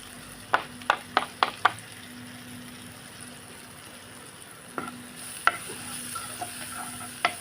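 Coriander powder, lentil powder, salt and Madras curry powder are stirred together in a pan, with a quick run of sharp spoon scrapes, then a quieter stretch and a few more scattered scrapes over a soft sizzle.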